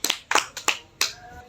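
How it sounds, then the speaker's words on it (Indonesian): Studio audience of a podcast clapping for a guest, with about four or five sharp, separate claps in a loose rhythm, close and fairly quiet, each followed by a short decay. "Tepuk tangan dong buat Bung Ali."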